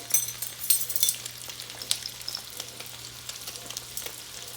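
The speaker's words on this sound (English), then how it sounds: "we're going to go ahead and add to that our 2 tablespoons of onion, get that cooking" Chopped onion and fresh garlic frying in a pan, a steady close sizzle with light crackles and occasional stirring clicks, with no talk.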